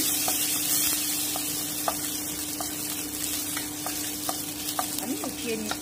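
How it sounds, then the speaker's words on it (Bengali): Raisins fry in a small amount of fat in a pan, a steady sizzle broken by regular scraping strokes of a spoon stirring, close and without talk. "এবারে আমি কিশমিশটা একটু ভেজে নিচ্ছি, খুবই সামান্য"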